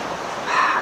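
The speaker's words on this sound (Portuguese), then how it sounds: "Estive agora a passar as mãos na água salgada." Sea waves wash onto a salt-water shore in a steady hiss that swells a little louder toward the end, heard close and alone.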